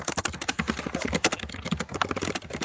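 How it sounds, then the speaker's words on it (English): Fast, irregular clicking of keys on a computer keyboard, close and continuous, with a dense rapid rhythm of keystrokes and no voices over it. "typing drowns me out"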